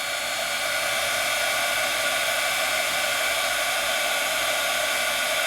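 A heat tool blows steadily on a heat setting over an embossed craft card, a continuous loud, even hiss of rushing air with no pauses and no voices throughout.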